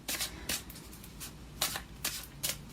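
Handling and shuffling a deck of Twin Flame oracle cards by Mystic Moon, giving five or six brief papery riffles and slaps close by with quiet gaps between them.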